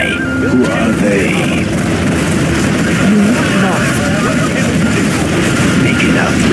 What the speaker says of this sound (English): Making a flyby.